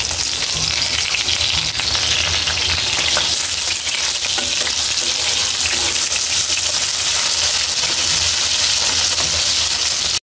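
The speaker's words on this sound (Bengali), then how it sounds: "এখন আমি মাছগুলো ভেজে নেব" Small meni fish fry and get turned in hot oil, making a loud, dense, continuous sizzle close by with occasional sharper crackles and pops, and no voices.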